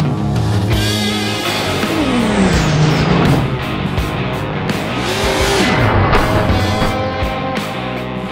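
A car drifts with long tire squeals that sweep up and down in pitch over a loud, revving engine, two sliding arcs in quick succession with no talking.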